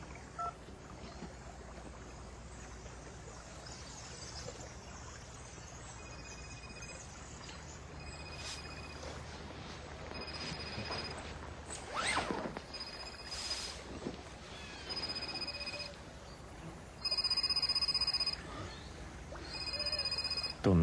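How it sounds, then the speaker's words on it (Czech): A mobile phone is called to find it: a series of dialing tones and beeps, then a loud ringing burst near the end, over low steady background hum. "Tak já ti prozvoním a najdem ho, že jo?"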